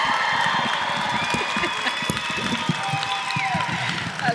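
Audience at the Dancing for Big Buddy fundraiser applauds and cheers steadily, with dense clapping, whoops and crowd noise, loud and close, continuous throughout.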